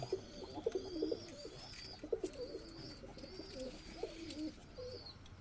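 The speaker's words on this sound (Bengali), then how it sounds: "দেখাবো দেখতে থাকুন পায়রাগুলো" Pigeons coo in a flying cage at a loft, with several birds' soft, rolling calls overlapping at moderate distance and faint chirps and rustling in between.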